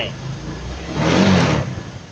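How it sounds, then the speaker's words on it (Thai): A Honda Click 125i scooter with a fault code 52 and a newly replaced charging coil idles and then revs, swelling briefly louder before settling back, with a voice faintly present alongside. "ลองเร่งเครื่อง"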